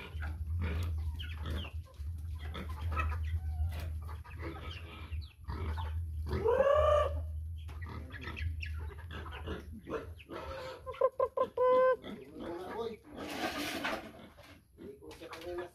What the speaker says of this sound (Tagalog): Ayan yung mga manok, yung mga alaga nating manok at saka yung alaga nating baboy